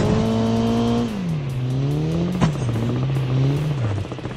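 Engine of a vehicle driving in Call of Duty Mobile drones loudly and close, its pitch climbing and dropping through gear shifts, with a sharp click partway through.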